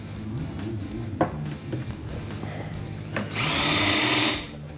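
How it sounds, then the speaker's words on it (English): Power drill boring out a bracket on a Ski-Doo Summit Rev XP snowmobile chassis, with a couple of short clicks and clanks followed by one close, loud, high-pitched whirring burst lasting about a second. "we're going to drill them out"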